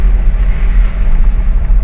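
A strong mountain-fed river current flows across a road at Laur, a loud, dense, continuous rushing roar close by, steady and heavy with no voices over it.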